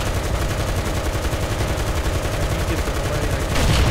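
War Thunder game gunfire rattles loudly in a fast, continuous burst of rapid shots under a short spoken line, with a heavier blast near the end.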